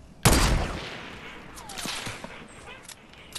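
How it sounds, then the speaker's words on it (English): A single sharp pistol shot in the Fortnite battle royale cracks out loud and close, then rings down into a noisy game backdrop with a few faint, scattered sounds. "That's a fucking pistol."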